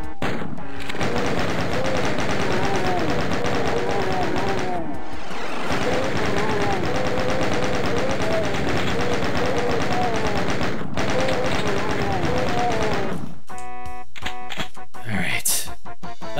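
Rapid chain gun bursts and heavy super shotgun blasts from the Doom mod TNT: Evilution, loud dense gunfire filling most of the stretch before breaking into scattered separate shots, with a player's voice talking over it.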